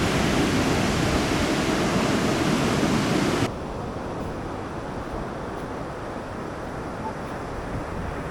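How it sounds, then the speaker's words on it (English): Ocean surf at Pfeiffer Beach on the Big Sur coast, a broad continuous roar of waves with wind, loud for the first few seconds then abruptly softer but steady. "So we're here at Pfeiffer Beach."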